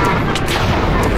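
TNT blocks exploding in Minecraft, a dense burst of heavy booming blasts that fills the whole short moment, loud and close.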